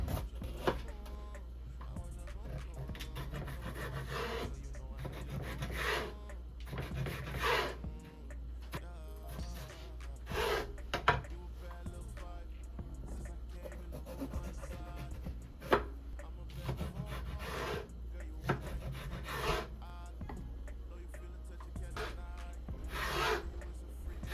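A knife cuts bell peppers on a board in repeated bursts of chopping and slicing, dull knocks mixed with rasping strokes, near and moderately quiet over a low steady background hum.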